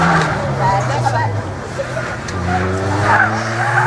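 Engines roar and tires squeal as leisure-class cars skid nearby at a slalom event, with voices talking over the noise.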